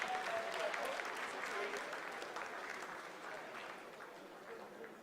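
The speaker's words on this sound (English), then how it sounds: "Lot of applause" Applause in a mission control room during the Chandrayaan-3 moon landing, a sustained crowd clapping with a faint voice underneath, fairly quiet and slowly tapering.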